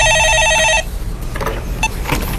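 A telephone rings with a loud, steady electronic tone lasting under a second, cutting off abruptly as the call on a stock-advice phone-in program is answered, leaving faint background noise.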